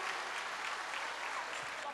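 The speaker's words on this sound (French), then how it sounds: "On applaudit." Dense, steady applause from an audience at an evening jewellery-sponsored women's event, a continuous wash of clapping throughout.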